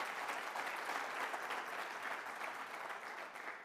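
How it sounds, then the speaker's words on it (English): Applause from a conference audience greeting a panelist, a dense, steady clapping that carries on for several seconds at moderate distance. "I know you all applauded"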